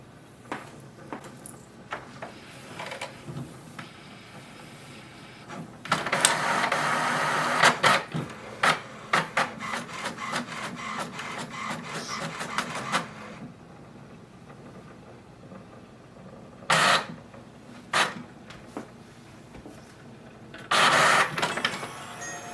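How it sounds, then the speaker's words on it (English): An HP Envy 6455e inkjet printer whirs and clatters through a print job, with mechanical buzzing, rhythmic carriage movements, and intermittent louder feed bursts near the end. "we can select one and wait for the printer to print"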